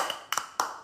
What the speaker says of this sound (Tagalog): Bigyan na 3 palakpak yan.